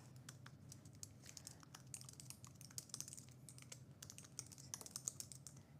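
Rapid typing on a computer keyboard, a quiet, steady stream of close, crisp key clicks with small irregular pauses, no voices.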